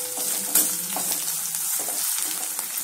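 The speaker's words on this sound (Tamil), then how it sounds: "நல்லா இந்த வெங்காயம் வதங்கி வரணும் ஃப்ரெண்ட்ஸ்." Onions sizzle in a pan for rava upma, a dense, continuous close-up frying hiss with occasional light stirring clicks and scrapes, no voices.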